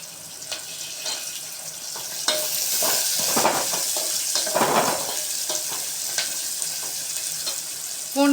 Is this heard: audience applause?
no